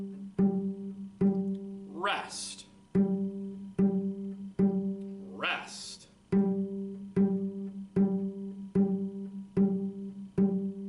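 A cello plays a low G with the fourth finger, repeated as short, evenly spaced bowed notes in a steady pulse, while a nearby voice calls out twice in the pauses.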